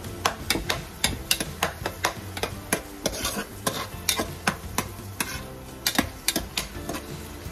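A spoon stirs native chicken tinola with papaya and moringa leaves after pepper powder goes in, knocking against the pot in quick, regular taps over a soft simmering sizzle, close and without talk.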